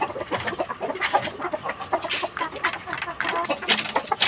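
A rooster clucks repeatedly in short, busy bursts, close and fairly loud, with other fowl noise and farmyard clatter around it.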